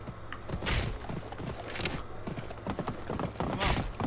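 Horse hooves clip-clop at a steady walking rhythm in a western video game, close and fairly clear with a soft background ambience.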